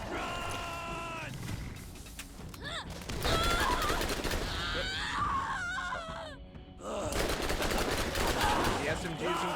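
SMG fire in the video game Borderlands, bursts of rapid gunshots mixed with game screams, creature cries and other effects, busy and dense throughout.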